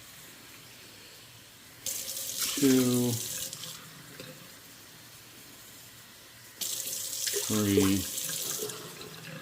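Tap water runs into measuring cups for rice in a kitchen, two separate bursts of flowing water about two seconds each with rising pitch as each cup fills, while a man counts aloud between them.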